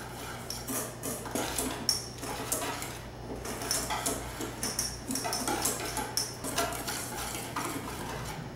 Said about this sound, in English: now we're going to whisk all these dry ingredients together